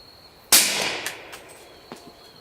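A single sharp shot from a Glock 22 .40 S&W pistol cracks loudly, followed by a short outdoor echo and a faint later impact, with quiet surroundings before and after.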